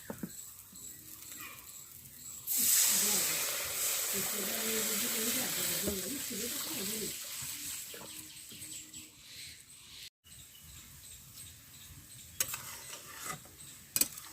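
Water hits a hot pan of fried tomato masala with a sudden loud sizzle that roars for several seconds, then gradually settles into a softer bubbling hiss, with a voice speaking briefly underneath.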